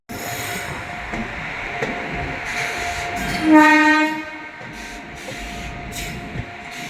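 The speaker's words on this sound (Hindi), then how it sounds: "ये दर्शन एक्सप्रेस। हज़रत निज़ामुद्दीन से चल मिराज जो पुणे से आई है" The Darshan Express from Hazrat Nizamuddin rolls in with a steady rail rumble, then sounds one short, loud horn blast midway before the rumbling continues.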